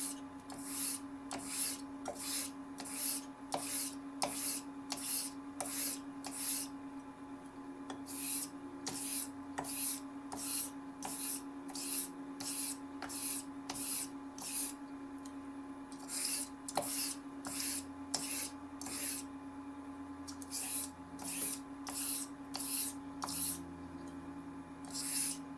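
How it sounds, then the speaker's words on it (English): Blade sharpened on a King 1000 grit whetstone, with steady rhythmic scraping strokes repeating about once a second, close and quiet, over a constant low hum. "this is a King 1000 grit stone, which I'm going to use as a bevel setting stone"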